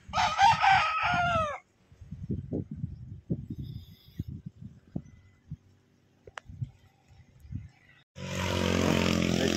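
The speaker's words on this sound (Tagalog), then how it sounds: "Iyakan na yung mga manok ko." A gamecock's crow opens, followed by scattered clucks, thumps and rustling, then a loud, noisy burst like an engine at the end.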